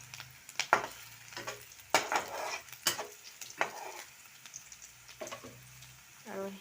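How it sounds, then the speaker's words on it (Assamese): Chopped onions frying in mustard oil with panch phoron spices, crackling in uneven bursts of sizzle with occasional stirring scrapes and light utensil clinks, close and fairly quiet. "পিঁয়াজখিনি এনেকৈ ভাজি লৈছোঁ"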